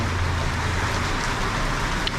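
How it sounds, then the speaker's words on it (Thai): Steady rain falls over a night street-food market in Penang, a dense, even hiss close by with a low rumble of traffic underneath, unbroken and fairly loud. "ฝนตก เรามาฝนตกแล้ว"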